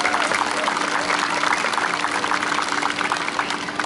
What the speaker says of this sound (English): So a round of applause for all of those individuals.